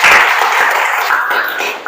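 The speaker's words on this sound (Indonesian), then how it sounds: "Tepuk tangan dulu." Students in a classroom break into a short burst of applause, loud and close at first and then thinning out over about two seconds.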